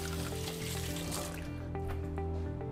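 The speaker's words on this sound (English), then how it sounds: "So I'll wash my hands in the meantime." Running tap water pours steadily into a sink as hands are washed in a home kitchen, a continuous close splashing wash with a low background hum throughout.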